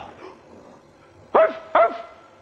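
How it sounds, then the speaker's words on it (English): A dog barks twice, short sharp yaps close by against a quiet background, with a third bark just beginning at the end. "Is that the dog?"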